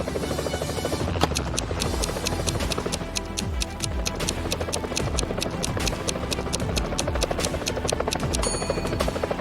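A helicopter's rotor chops in a fast, steady rhythm, loud and continuous throughout, with a busy droning background and no talking.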